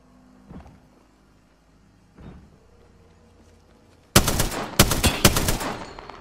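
Gunfire in the video game Apex Legends erupts after a quiet stretch with a couple of soft thuds, then several loud, sharp bursts of rapid shots close by, separated by brief gaps.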